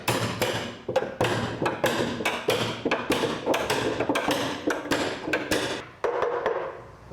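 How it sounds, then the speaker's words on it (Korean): A traditional drum maker hammers curved wooden staves seated in a large iron ring, knocking them tight to form a drum's cylindrical resonator; close, steady rapid strikes continue throughout with no talking. "그리고 망치로 두드려 막대기들의 아귀를 맞춘다."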